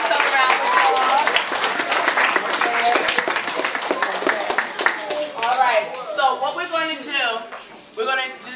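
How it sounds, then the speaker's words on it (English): First graders and parents at a winter school concert clap in a lively burst, with children's voices chattering and cheering over the dense applause throughout. "Okay, first grade, give yourself a round of applause."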